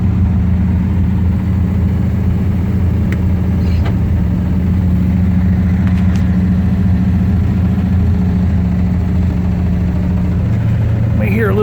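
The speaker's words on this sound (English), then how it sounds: "May hear a little bit of an exhaust pipe rattling against the back of the car." A 1971 Corvette idles loud and steady, its engine holding an even low hum with slight fluctuations throughout, while a loose exhaust pipe may add a light rattle against the back of the car.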